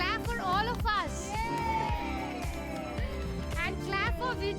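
Lively crowd at a Pongal festival celebration cheering, whooping and shouting excitedly, with a voice on amplified speech and music cutting through the busy, close-up din.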